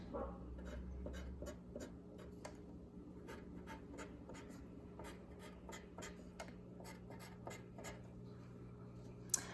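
A pencil scratches and taps on a paper music theory worksheet while sharp symbols are drawn, with quick, quiet, irregular strokes over a faint steady hum and a small bump near the end.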